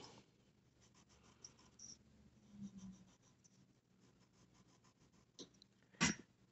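Pencil scratching over paper while a winding path is drawn across artwork, a faint, continuous soft rasp close by with a sharper scrape near the end.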